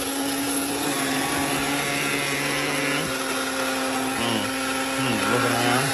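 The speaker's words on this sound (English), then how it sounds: "We got the beans in the cup. The beans are in the grinder." A coffee grinder grinds beans with a steady, loud whirring motor hum that runs unbroken throughout, its pitch dipping slightly near the end as the load shifts.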